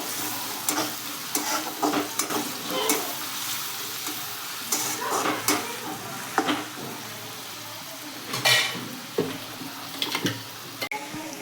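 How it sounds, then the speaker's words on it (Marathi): Onion, ginger and garlic stirred and fried in oil for pav bhaji, giving a continuous sizzle with irregular scraping and clanking spoon strokes against the pan, close up and with no talking. "आता कांदा टाकूया. मिक्स करून घेऊया."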